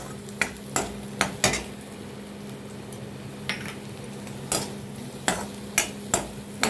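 Carrots for carrot chutney sautéing in a pan with a soft sizzle, punctuated by repeated spoon clinks and scrapes against the pan in an irregular rhythm, close and clear.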